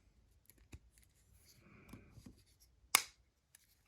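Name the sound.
magnet clicking onto an action figure part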